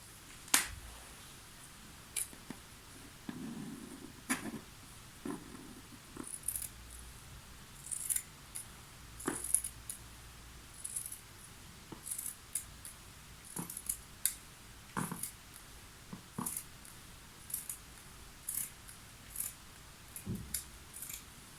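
Scissors cutting folded fabric for a blouse dress: sharp, sparse snips and clicks scattered throughout, close and fairly quiet, with no talk.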